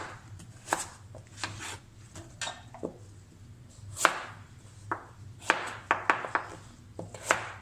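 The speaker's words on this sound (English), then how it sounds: "These potatoes are nice and fresh. You can actually feel it when you're cutting them." Fresh potatoes being cut with a knife on a board, producing a string of crisp, close chops spaced unevenly, some louder than others, with no talk.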